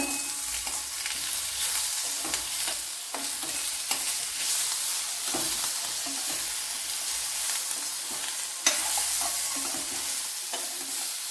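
Onions and tomato fry in a pan while being stirred for a raw banana dish, giving a continuous close sizzle with intermittent scraping stir sounds.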